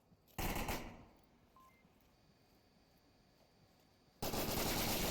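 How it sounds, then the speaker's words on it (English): In the VR shooter Onward, light machine guns fire two loud, dense sustained bursts, one brief at the start and another running to the end, with a quiet gap between them. "Ooh, an LMG fight."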